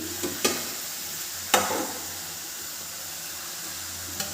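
Tomatoes fry in a pan with a steady, close sizzle, broken by a few sharp clatters of a spoon against the pan as they are stirred.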